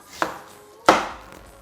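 Two sharp knife chops through yam on a cutting board, spaced under a second apart, the second louder, each with a brief woody thud and short decay; no talking.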